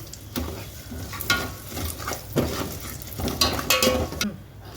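Mustard seeds, cumin, asafoetida and curry leaves sizzling in hot oil for tempering: a close crackling sizzle with bursts of spattering and a few metallic pan and spoon clinks.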